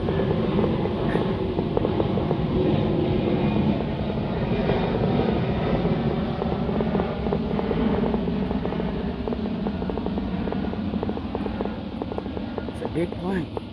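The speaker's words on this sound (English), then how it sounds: "Big plane." A large airplane passes overhead outdoors, its broad engine roar filling the whole stretch at a steady, moderately loud level, while someone talks over it.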